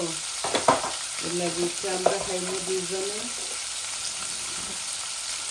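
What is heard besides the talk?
rohu fish frying in hot oil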